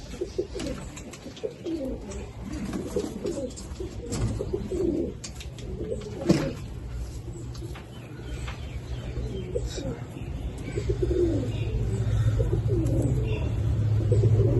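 Pigeons of a high-flying breed coo in soft repeated phrases close by, rising and falling over a low rumble and faint background hum, with a sharper knock near the middle.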